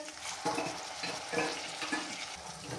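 Tomatoes, onions and whole spices sautéing in a pan for an aloo matar curry, giving a soft sizzle and frying crackle broken by several rhythmic stirring scrapes, close up with no voices.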